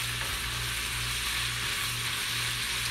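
Ham fries steadily on medium-high heat in a nonstick pan, a constant broad sizzle without a break, close and fairly loud, no voices.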